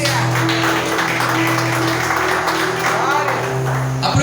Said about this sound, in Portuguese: Vamos aplaudir o nome de Jesus